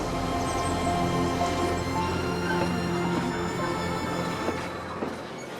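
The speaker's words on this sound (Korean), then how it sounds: "철광석 열차 모리타니" A heavy iron ore freight train in the Sahara desert of Mauritania rumbles past with a continuous metallic drone, faint squeals and clatter, fading slightly at the end.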